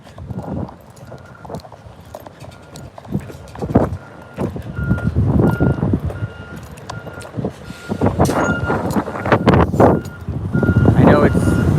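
A truck reversing in Salt Lake City, its backup beeper repeating at a regular pace over loud, rumbling engine and road noise that swells toward the end.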